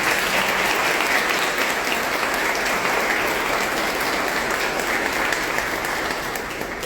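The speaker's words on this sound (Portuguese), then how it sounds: "mais uma salva de palmas para o Cris Ventura" Steady, dense applause from a church congregation at an in-person Mass in Bauru, honouring Cris Ventura, continuing evenly for about seven seconds with no speech over it and easing slightly at the very end.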